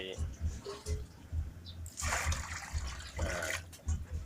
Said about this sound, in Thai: เทน้ำใส่